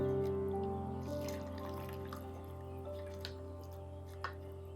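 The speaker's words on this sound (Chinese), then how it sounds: "将排骨捞出来" Boiled pork ribs lifted from a pot of lotus root soup broth, water dripping and trickling back into the pot, with a steady background hum and faint splashes.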